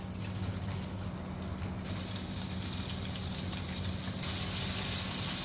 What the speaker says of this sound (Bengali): আমি আরেকটু তেল দিব, চিকেনগুলো ছেড়ে দিব, দিয়ে এটাকে রান্না করব।